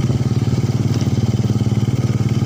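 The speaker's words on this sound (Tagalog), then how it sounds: "Mamasada ako sa motor ko." A motorcycle engine chugs loudly and close while being ridden, its rapid even pulsing beat holding steady for the whole stretch with no voices.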